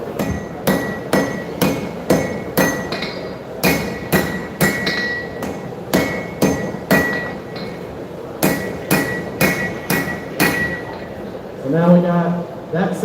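Hammer blows on knife steel at an anvil during live forging at a knife show, landing in quick bursts of sharp ringing strikes with brief pauses between groups, close and loud, with a voice heard briefly near the end.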